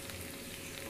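Bhindi and kundru with turmeric, salt and red chilli fry and are stirred in a pan, giving a faint, steady hiss with no breaks.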